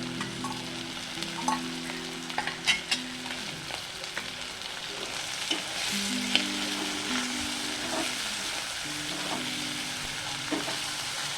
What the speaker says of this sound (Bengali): তিন চার মিনিট মতো চিংড়িটাকে খুব ভালোভাবে ভেজে নিলাম